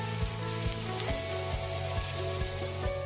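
Onions sizzle in olive oil in a pan, a steady broadband frying hiss with faint periodic clicks and pops, close and continuous with no voices.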